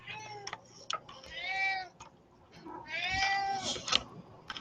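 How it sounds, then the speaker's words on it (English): Cats roaming among computers meow repeatedly, two drawn-out close cries plus a few shorter chirps across several seconds, with some faint background sound. "These are computer kitty cats."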